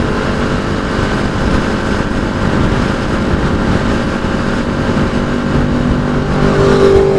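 A Yamaha R1 motorcycle engine roars loud and steady as it revs past during a group Sunday morning ride, with continuous engine and road noise and no talking.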